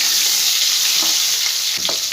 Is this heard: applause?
no